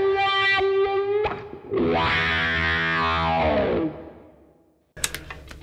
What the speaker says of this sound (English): I love the way chords sound with the fuzz this side of the wah.